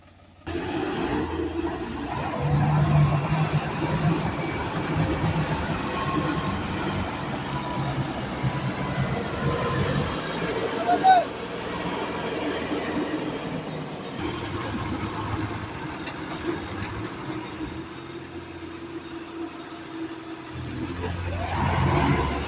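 A paddy harvester's engine labors in a wet field while stuck, a steady low drone that rises and strains in waves, moderately loud, with occasional faint background voices.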